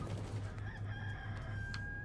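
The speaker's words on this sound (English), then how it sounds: "Okay, there's a chicken." Chicken in the video game D4: Dark Dreams Don't Die, heard as clucking and crowing-like calls repeating over a steady low game background hum, fairly close, with no talking.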